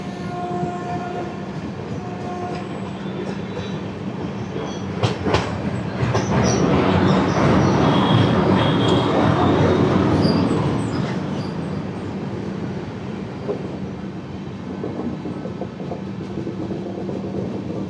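A night passenger train between Kolkata and Puri rolls along steadily, its rumble and rail clatter swelling louder through the middle stretch before easing back to a constant hum.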